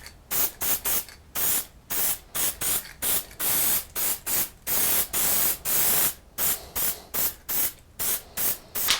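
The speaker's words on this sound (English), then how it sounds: "Now what I'm going to use is the Marsh Spray Stencil ink, and this is the red." Red Marsh Spray Stencil ink sprayed from a can in a run of loud, close hissing bursts, each about a third of a second, with short gaps between them and no talk.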